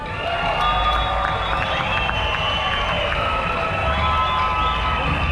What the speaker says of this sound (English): Give a big round of applause to Mccain.